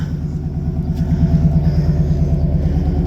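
A truck engine idles close by with a steady, loud low-pitched rumble and a regular pulsing throb throughout, with no cam or lifter knock.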